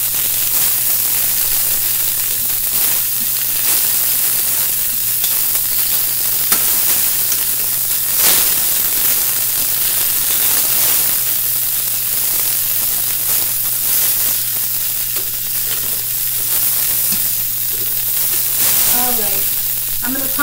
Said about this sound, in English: I think the zucchini smells so good when it's cooking.